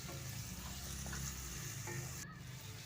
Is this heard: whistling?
no